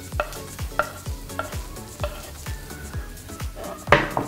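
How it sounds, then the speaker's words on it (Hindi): Chopped onions hit hot oil in a pan and are stirred, a sizzling bed under regular, rhythmic scraping strokes about every half second, ending with a louder clatter of a utensil against the pan, close and without speech. "ये अब अनियन डाल सकते हैं। सो ये चॉप अनियन डाल दिए"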